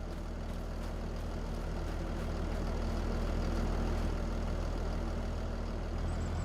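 A tractor engine in Farming Simulator 25 idles steadily, left running, a constant low rumble that holds at an even level throughout with no voices.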